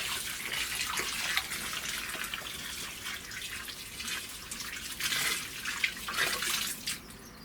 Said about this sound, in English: the soil in this greenhouse is very dry, so I'm really going to give it a good soaking